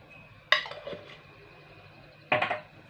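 A metal spoon clinks twice against a cup while honey water is being prepared, two crisp, faint taps a couple of seconds apart in a quiet kitchen.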